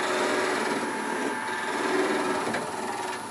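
A wood lathe spinning a block of wood being shaped into a pear, cut with a 1/4 inch detail gouge, giving a steady, loud motor whine with a faint scraping hiss throughout.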